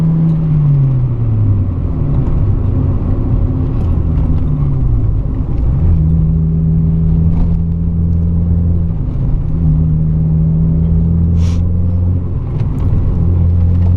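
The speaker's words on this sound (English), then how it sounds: "It just keeps on revving." A Mazda MX-5 Miata MK2.5 revs hard while being driven on a winding road, its engine note climbing and dropping through gear changes as a loud, close, continuous drone.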